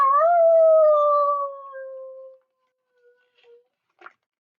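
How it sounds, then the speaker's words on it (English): A long wavering howl, like a wolf or dog, rises and then slowly falls and fades in a read-aloud story, followed by a few faint scattered sounds. "But then he heard howling."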